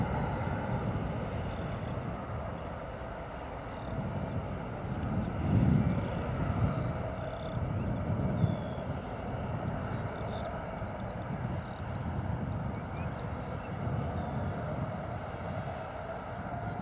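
A Jet2 airliner passing overhead near Bristol Airport, a faint, distant, steady engine roar that swells slightly midway and then settles back, with no talk.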